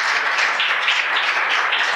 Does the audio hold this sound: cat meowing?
no